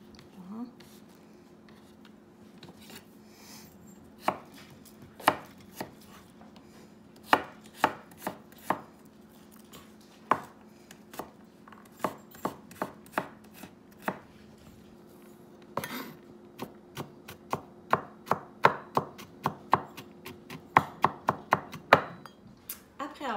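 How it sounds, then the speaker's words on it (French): Garlic being finely chopped with a knife on a board, quiet at first, then sharp close knocks that come faster toward the end, over a faint hum and low murmur. "Après avoir haché notre ail"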